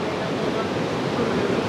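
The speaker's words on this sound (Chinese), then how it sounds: "这里有一条小溪，这样流下来" A small stream runs beneath a wooden footbridge at a village entrance in Yili, Xinjiang, giving a close, steady rush of water with no breaks over the short stretch.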